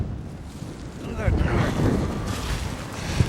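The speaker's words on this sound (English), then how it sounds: "fair good bit of wind today" Gusty wind at an outdoor cemetery in Port Stanley, Ontario, buffeting the microphone as a rumbling rush that swells midway and stays near, with a voice faintly present underneath.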